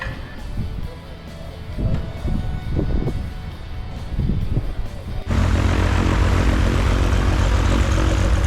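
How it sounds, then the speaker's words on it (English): A Cessna 180 propeller plane with a fuel-injected engine starts up, a loud, steady engine drone that suddenly fills the sound after a stretch of muffled background noise and voices. "It's a big airplane."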